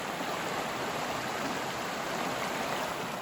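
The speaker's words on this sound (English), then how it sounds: "Small little waterfalls." Small waterfalls on Otter Creek pour in a steady, unbroken rush of water close by, a dense even wash with no voices over it.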